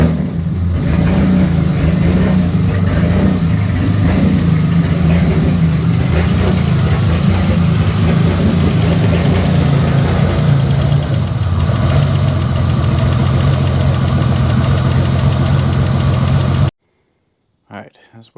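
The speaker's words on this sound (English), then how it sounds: "every so often, try to start the vehicle" A lowered mini truck's engine running at a steady idle for most of the stretch, a loud, continuous low rumble that cuts off suddenly near the end.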